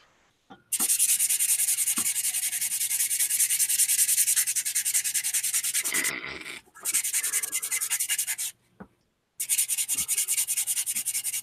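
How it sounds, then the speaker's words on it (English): Rapid, rhythmic sanding strokes rasp loudly and continuously, broken by a couple of brief pauses before the scrubbing resumes, with no talking. "Gotta love sanding."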